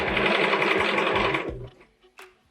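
A sewing machine stitches a quilt in a loud, rapid burst of clatter close by, then stops suddenly, and a few soft handling clicks follow.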